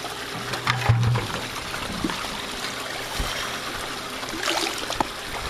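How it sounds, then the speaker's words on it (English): Water runs steadily into a 5-gallon bucket, a continuous rushing trickle close by with a few knocks and thumps around it. "5-gallon bucket, need to fill it up with water real quick."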